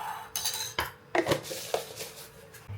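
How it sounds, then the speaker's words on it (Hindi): Sugar is spooned into a glass of water, with several crisp clinks and taps of a spoon against glass spaced irregularly, close up and fairly quiet. "इसमें डालेंगे हम थोड़ी सी चीनी।"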